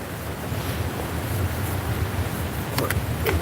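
Sea waves wash onto the shore at Withernsea on a snowy day, a steady broadband surf roar with wind rumbling across the microphone and a couple of faint sharp knocks near the end.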